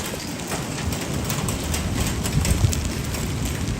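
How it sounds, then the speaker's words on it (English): Hail falls during a storm chase near Juneau, Wisconsin, a dense continuous clatter of pellets drumming on a surface, loud and steady for several seconds with no voices. "It's hailing."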